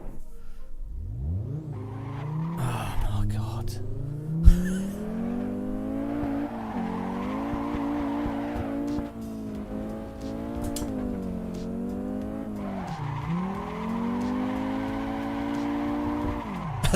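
A race car in Assetto Corsa revs hard while understeering and skidding on throttle, engine note climbing and dipping with shifts as tires squeal continuously, loud and close throughout.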